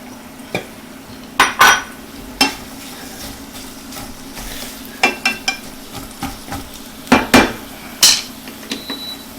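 Knife chopping onion rings in half on a cutting board, a series of sharp, close taps in irregular bursts, some clustered in quick pairs, loud against a faint background hiss.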